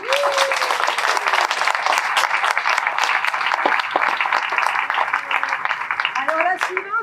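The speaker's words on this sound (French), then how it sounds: "Et je vous demande d'applaudir très fort la toute récente Poulette" A theatre audience applauds a performer at a French comedy show, with dense, steady clapping filling the whole stretch and a few voices and cheers rising over it near the start and end.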